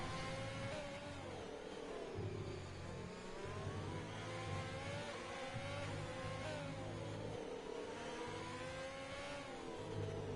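Formula 1 race cars in a racing video game on the Hungary circuit, engines droning and revving continuously at mid distance, with rising and falling pitch sweeps as the cars accelerate through the laps, no voices.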